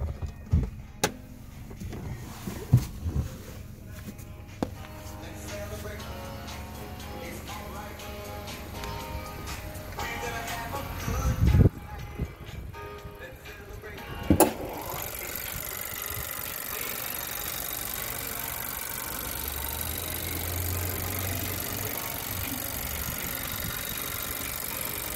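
A 2019 car engine idles with a steady low hum that grows fuller in the second half. A few sharp clunks and clicks come earlier, heard close up.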